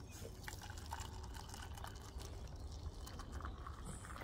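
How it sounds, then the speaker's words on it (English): Coffee poured into a cup outdoors at a lakeside in Wales, a soft liquid trickle under steady wind and background noise. "pour myself a nice cup of coffee."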